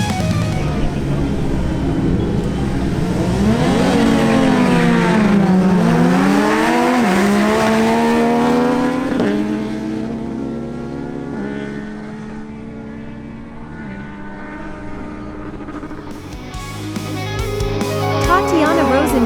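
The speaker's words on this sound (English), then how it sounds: "Now, Tatiana Rosenthal on her Yamaha MT-09 faces off against David Zuniga on his Kawasaki Z1000." A Yamaha MT-09 and a Kawasaki Z1000 motorcycle launch side by side in a drag race, engines screaming loudly as they rev up through repeated gear shifts, then fading as they run off and returning near the end.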